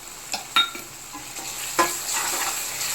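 Prawns frying with ginger garlic paste in a pan, a soft steady sizzle with a few sharper stirring clinks and scrapes scattered through, close by and with no talking.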